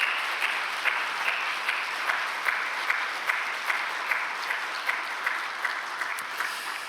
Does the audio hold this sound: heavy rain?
no